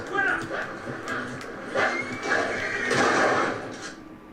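A horse whinnies loudly several times in Red Dead Redemption 2, its neighs sounding amid game noise and excited talk.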